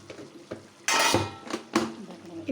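Chili powder being stirred into a cooking pot, with a utensil clattering and scraping against the metal in several sharp knocks and one louder clang, close and fairly loud.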